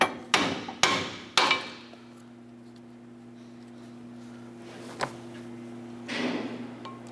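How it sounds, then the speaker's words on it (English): A pry bar tapping the brake pad backing plate on a 2008-2012 Honda Accord front brake, three sharp metallic knocks in quick succession, then a faint tap and a softer scrape later, close and alone. "Just going to use our pry bar and tap the brake pad backing plate, try and work these out."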